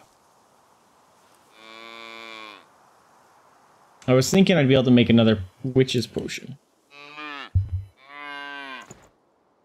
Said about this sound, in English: We'll leave the cows be for now